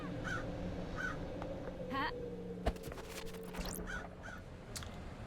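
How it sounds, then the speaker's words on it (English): Crows cawing in the video game Paradise Killer, several harsh calls spaced a second or so apart over low ambient music, with a sharp click partway through. "I like the crows."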